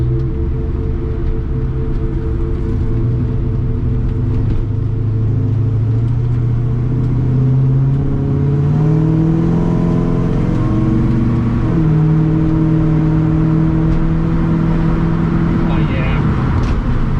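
A Chevrolet C10 roadster with an LSA V8 engine and 6L90 transmission runs loud and close, a steady deep rumble with gentle rises in revs; someone speaks over it.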